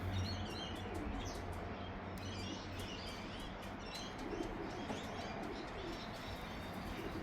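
Racing pigeons coo softly around their loft, with scattered chirps and a brief flutter of wings over a faint outdoor hiss, no talking.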